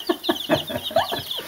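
Baby chicks in a chicken pen cluck and cheep in quick overlapping bursts, close and busy, over a short stretch without talk.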